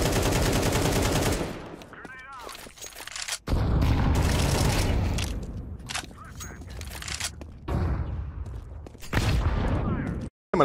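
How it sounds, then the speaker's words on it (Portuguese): Loud, rapid bursts of shooter-game gunfire and explosive booms from grenades landing at the player's feet, dense and sustained with brief gaps between volleys, and voices faintly mixed in. "é só bomba no pé"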